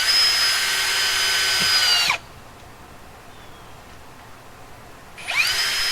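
A power drill whines steadily for about two seconds driving a screw into wood, stops, then starts up again near the end, with quiet room noise in between.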